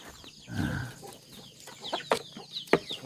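Chickens clucking nearby in short, irregular bursts, with a few sharper squawks toward the end and no human voices.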